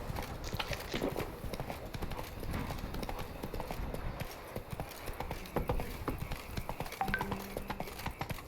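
Roach the horse gallops across open ground in The Witcher 3, hooves clattering in a fast, steady rhythm over a busy game soundscape with someone talking at times.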